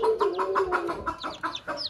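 A mother hen with newly hatched chicks clucks in a quick series of short, rhythmic calls, close by and fairly clear, with no talking.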